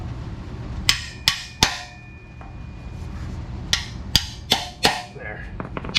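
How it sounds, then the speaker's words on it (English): Sharp metallic hammer strikes seating a Pypes exhaust part on a 1972 Dodge Challenger, three in quick succession, then a pause and four more blows, each ringing briefly in a quiet room. "Give me that hammer again."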